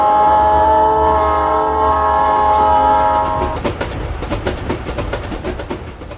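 An express train with its lights blazing roars past from the opposite direction, a loud sustained horn-like tone giving way to rapid rhythmic clickety-clack of wheels over rail joints that slowly fades.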